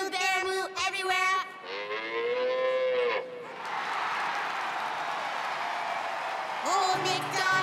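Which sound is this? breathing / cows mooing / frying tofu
cows mooing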